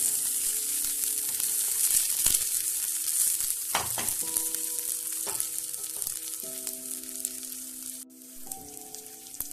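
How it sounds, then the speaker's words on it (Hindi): Garlic, ginger and green chili fry in hot oil in a kadhai, giving a steady, loud, dense sizzle that runs unbroken from start to finish, with a faint background hum underneath and no talking. "कढ़ाई में तेल गरम कर लीजिए। गार्लिक, अदरक और ग्रीन चिली इनको फ्राई कर लीजिए।"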